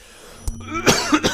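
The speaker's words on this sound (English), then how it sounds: "What a time to start coughing all of a sudden." A few sharp coughs close to the mic, two or three short bursts in quick succession after a quiet start.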